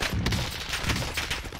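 Rapid bursts of submachine gun fire from a PPSh in a first-person shooter game, a quick rattling volley of several shots over a second and a half, loud and close.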